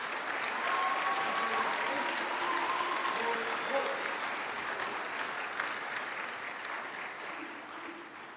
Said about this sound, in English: Please join me in a round of applause for the honor graduates and all the awardees